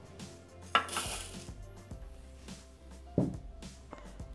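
Rice poured into a Thermomix bowl for asparagus risotto gives two sharp rattling clatters of grains hitting the bowl, one early and one later, over a quiet low motor hum.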